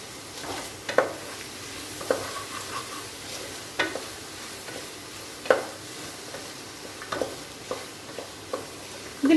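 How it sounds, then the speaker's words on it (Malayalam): Tomatoes sautéing in a pot for egg biryani give a soft steady sizzle, broken every second or two by scraping stirs of the spoon against the pot, with no talking. "തക്കാളിയുടെ നന്നായിട്ട് വഴലട്ടെ"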